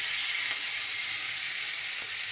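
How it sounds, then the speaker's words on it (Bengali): Ground spice paste fries in oil for a Bengali fish-head muri ghonto, giving a continuous bright, close sizzle with a couple of faint stirring scrapes. "সব বাটা মশলা এটা সুন্দর করে তেলে কষিয়ে, আমি রান্নাটা যেভাবে করি সেটা হচ্ছে তেলে এইভাবে কষাই"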